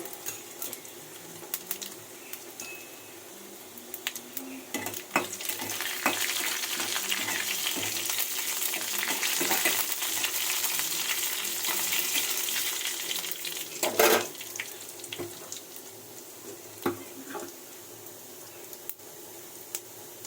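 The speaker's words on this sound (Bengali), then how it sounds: "শুকনো লঙ্কা ছোটো ছোটো করে কেটে নিয়েছি তার পাশটা একটু রাঁধুনি আর একটু আছে পাঁচ ফোড়ন" Dried chilli pieces, panch phoron and chopped garlic fry in hot oil with a steady, moderate sizzle, broken by a few sharp utensil scrapes and clinks against the pan.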